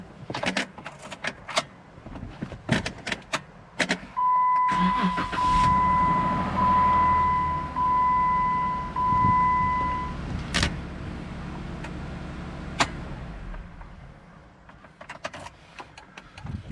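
A Jeep JK being locked and unlocked with a new key fob, giving a few sharp clicks and clunks over a steady idling hum with a tonal chime running through the middle, and a loud thunk near the end.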